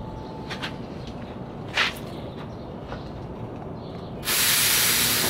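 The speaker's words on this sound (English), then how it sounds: "on this point I have to start my compressor" A car air conditioner service machine's compressor starting up during a refrigerant refill: a steady low mechanical rumble with a few brief ticks gives way near the end to a sudden, loud, continuous rushing hiss, with no talking.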